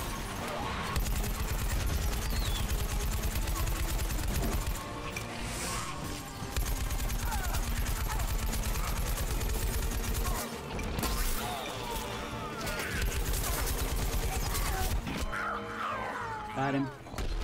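Rapid video game gunfire rattles in dense bursts in PvZ Garden Warfare 2, aimed at a jade cactus, with brief gaps, scattered impacts and crunches, loud and close throughout.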